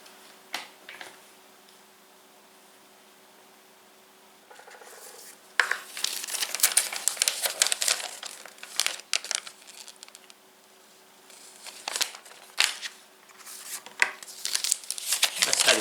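Apple Pencil second-generation box packaging and its wrapper being handled, giving close crinkling, rubbing and light tapping in irregular bursts that are quiet at first and then busier, with no speech.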